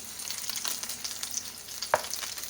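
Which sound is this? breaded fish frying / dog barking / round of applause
breaded fish frying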